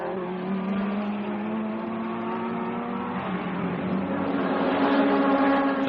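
Vintage racing cars, Phil Hill's Ferrari number 4 and Stirling Moss's Lotus number 7 among them, roar together in a continuous, loud engine drone with steady harmonic whine and no speech.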